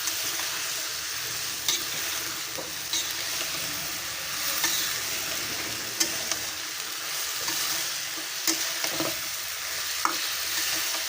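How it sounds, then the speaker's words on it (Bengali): Chopped winter vegetables are sautéed in oil in a pan with a loud continuous sizzle, punctuated by sharp ticks and scrapes of a spatula stirring throughout; no voices. "কেটে রাখা সবজিগুলো দিয়ে দিলাম"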